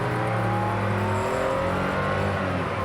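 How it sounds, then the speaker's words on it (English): Porsche 911 sports car engine revs in a smooth, steady rising tone with layered harmonics, sustained and fairly faint with no voices over it. "I just love the sound of this motor."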